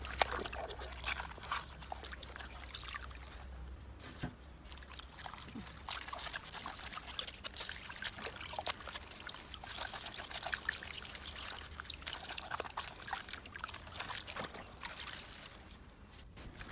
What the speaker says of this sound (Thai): เสร็จเรียบร้อยแล้วล้างน้ำนะคะ ล้างให้สะอาดค่ะ ล้างหลายๆน้ำ ถูๆค่ะ แกว่งๆนะคะ